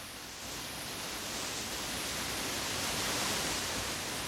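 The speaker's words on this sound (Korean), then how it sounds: "온갖 잡소리를 빨아들이는 폭포 소리에" A 23 m waterfall plunging into a deep 21 m pool below a rock cliff roars steadily and loudly, a dense broadband rush that swells slightly and fills the whole moment with no voices.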